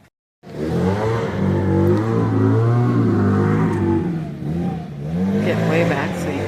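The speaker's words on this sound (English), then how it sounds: "He's leaf blowing, so I'm not going to be able to talk." A leaf blower runs nearby outside a Little Free Library, a loud steady engine roar holding for most of the stretch after a brief silent start, with slight dips in level.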